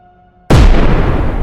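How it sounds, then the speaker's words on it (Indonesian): A sudden heavy explosion bursts out of near silence, a deep booming blast that rolls on with a dense rumbling tail, used as a sound effect in a horror tale. "Suara ledakan itu kembali terdengar."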